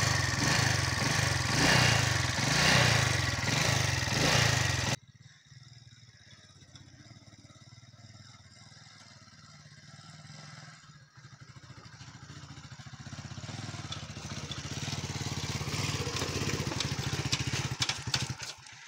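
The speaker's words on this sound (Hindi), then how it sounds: "फाइनली जी बाइक अच्छी तरह वर्क कर रही है, रेस बिल्कुल ठीक हो गई है इसकी" A motorcycle engine, just repaired after a throttle fault, runs loud at first, then drops to a quieter idle that gradually builds back up as the throttle is raised.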